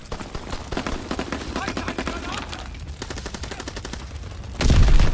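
Gunfire in the World War II shooter Call of Duty WW2, a rapid string of sharp repeated shots at a regular rhythm, ending in a louder, heavier blast near the close.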